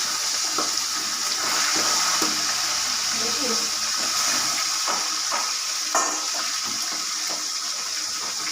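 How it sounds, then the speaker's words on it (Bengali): Pieces of fish fry in a pan with a steady, loud hiss of hot oil and occasional sharp pops and clicks throughout. "এই 3টে দিয়ে এখন ভাজবো"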